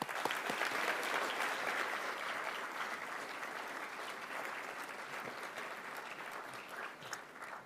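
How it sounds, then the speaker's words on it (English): Sustained, even applause from a dinner audience at a community college awards celebration, honoring faculty and staff award winners, a dense clapping texture fading slightly toward the end. "please join me in another round of applause for all of our faculty and staff"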